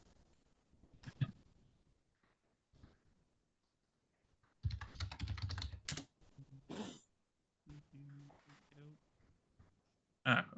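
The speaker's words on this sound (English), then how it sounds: "He's typing, but he can mute." Keyboard typing during an online tabletop roleplaying session, heard as scattered bursts of quick clicks between stretches of people talking nearby.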